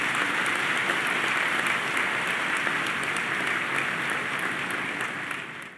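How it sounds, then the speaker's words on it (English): Sustained applause from a large crowd at a high school graduation ceremony, a dense steady patter of many hands clapping that continues evenly before tapering off at the end. "One more round of applause for them,"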